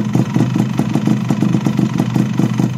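A Honda Z125 motorcycle engine runs close by, with a steady, rapid thumping pulse at a constant pace and no clear rise in revs.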